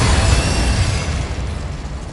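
A Confringo blasting spell explodes in the Hogwarts Legacy video game, one loud booming burst that rumbles and slowly fades over about two seconds.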